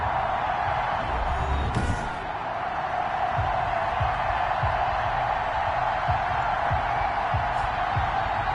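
Stadium crowd in a Madden football game before a Cleveland Browns versus Buffalo Bills matchup, a steady distant roar of cheering with a rhythmic low stomping or chanting pulse underneath.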